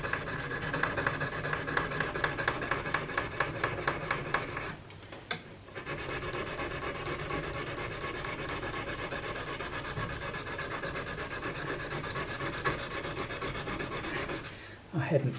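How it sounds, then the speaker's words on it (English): A steel blade being hand sanded with small abrasive stones, a steady close rasping rub in quick continuous strokes that pauses briefly twice, alone without talk. "you're getting a good cut with these wee stones"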